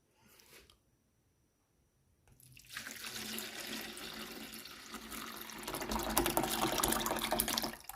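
Water pours steadily into a kitchen sink as cooked al dente lentils are drained, rising from a brief splash after a short pause to a loud, continuous rushing stream that grows heavier toward the end.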